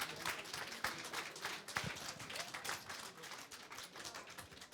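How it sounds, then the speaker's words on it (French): An audience claps for an author at a prize ceremony, a soft, quick patter of many hands heard faintly from a distance, with scattered sharper claps. "Vous pouvez l'applaudir."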